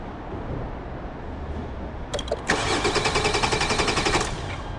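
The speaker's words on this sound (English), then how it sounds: "I'll just run and very briefly crank the car over." Jeep Grand Cherokee engine cranking over after a blown fuse was replaced, a brief click then a rapid rhythmic starter churn lasting about two seconds, loud and close, with no talk.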